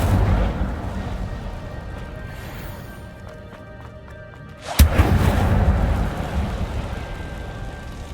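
A fire spell is cast in Hogwarts Legacy: a sudden bright burst at mid-clip, then a dense, roaring whoosh of flame over steady game ambience, with no talk.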